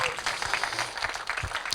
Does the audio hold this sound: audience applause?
yes